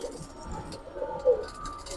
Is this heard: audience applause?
no